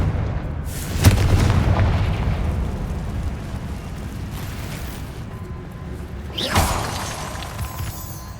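A Confringo fire spell blast in Hogwarts Legacy gameplay: a sharp booming explosion near the start, then a second burst about five seconds later, each trailing into a rumbling fade.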